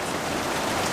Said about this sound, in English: it's sunny, but it's pouring rain.